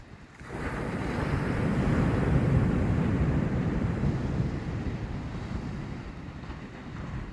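Ocean waves surging and washing in a continuous loud roar, rising quickly after a quiet start and then slowly ebbing, with buffeting wind noise mixed in and no voices.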